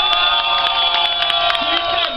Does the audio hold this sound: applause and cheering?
yes